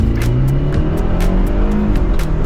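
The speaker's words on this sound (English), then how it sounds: "this first one, full throttle, and then hard braking" A car accelerates hard at full throttle with a loud, continuous engine roar rising in pitch through the gears, heard from close by inside the vehicle.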